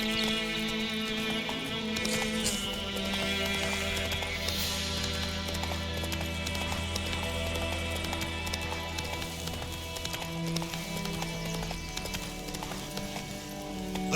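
A horse gallops in The Witcher 3 video game, with steady rapid hoofbeats clip-clopping throughout alongside ambient game music.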